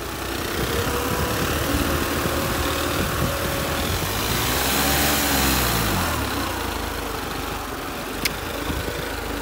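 New Holland 3630 tractor engine running with a 15-tine tiller outdoors, a loud continuous diesel drone with rising and falling pitch and a short click near the end, no talk.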